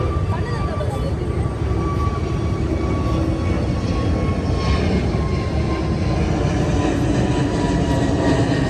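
An airplane flies overhead with a steady, broad roaring drone that holds loud and constant throughout, a faint high whine running through it.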